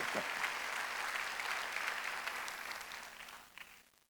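A Sunday worship congregation gives a round of steady, full clapping that fills the hall, then thins out and fades near the end.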